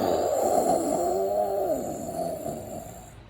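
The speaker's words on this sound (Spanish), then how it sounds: "Pero Perro siguió roncando." Snoring from a dog character in a children's story, one long, loud, rasping breath that wavers and then fades.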